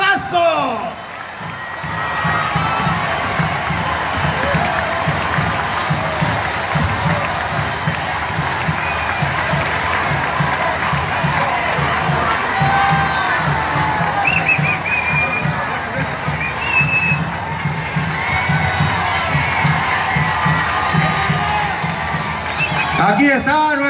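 A large outdoor crowd at a political rally for President-elect Andrés Manuel López Obrador in Villahermosa, Tabasco, applauds and cheers continuously, a dense roar of clapping and shouts with rhythmic bursts throughout.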